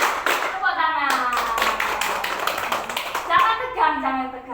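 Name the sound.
classroom clapping hands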